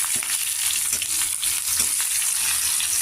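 A tempering of chana dal, cumin, mustard seeds and chopped red and green chillies fries in hot oil, giving a loud, steady sizzle with faint crackles and popping seeds throughout.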